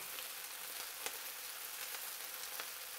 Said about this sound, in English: Want to get a good spread on the beef here. So I gotta sear one side of it.